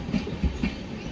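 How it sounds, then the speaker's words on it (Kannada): A Talaguppa–Mysore Intercity superfast express with new LHB coaches rolls past, giving a brief low rumble with a few clickety-clack wheel beats on the rails. "ನೋಡ್ಬೋದು ತಾಲ್ಗುಪ್ಪ ಇಂಟರ್ಸಿಟಿ ಫುಲ್ ಪ್ಯಾಕಲ್ಲಿ ಹೋಗ್ತಿದೆ ಗುರು"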